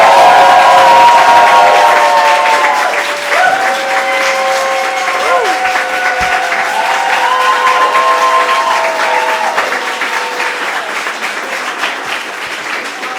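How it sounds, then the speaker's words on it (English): Warm audience applause with cheers and whoops at a poetry center awards and reading event, loud at first and slowly easing off, with voices calling out over the clapping. "Please give another warm round of applause to Musu."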